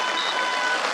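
Audience applause at the opening match of a youth football tournament, a steady dense wash of clapping from a crowd, continuous and fairly loud for a moment.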